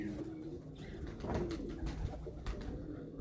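Lochin pigeons, 2024-hatched males, coo in low repeated murmurs over a busy loft background. Soft rustles and flutters are mixed in.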